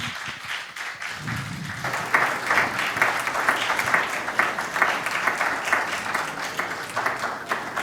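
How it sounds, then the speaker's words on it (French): Audience applause and ovation at a vocal coaching grand finale in the Azalaï Hotel: dense, sustained clapping from a crowd that swells after the first second and holds steady and loud to the end. "Continuez d'ovationner, s'il vous plaît."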